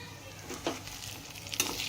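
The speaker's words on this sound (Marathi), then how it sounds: "स्लो गॅस करून त्याच्यावर फ्राय व्हायला टाकायचे" Stuffed capsicum fries in a pan over a low gas flame, with a faint steady sizzle broken by a couple of soft crackles and light stirring noises.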